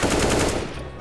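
Rapid automatic gunfire from CS:GO, a loud, dense burst of shots rattling continuously for about a second, close and unbroken, with no talking.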